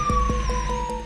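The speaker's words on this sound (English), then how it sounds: "A blaring ambulance siren means move aside, help is on the way." An ambulance siren blares loud and close, holding one steady wailing tone that slides slowly downward, with soft rhythmic thumps pulsing underneath.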